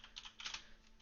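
Quick, faint keystrokes on a computer keyboard while a telnet command is typed, a light irregular patter of clicks over a steady electronic hum.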